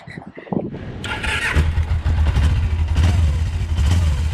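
A cafe racer motorcycle engine cranks and catches, then settles into a loud, rough, uneven idle that wavers and surges as it struggles to keep running, close up with no talk.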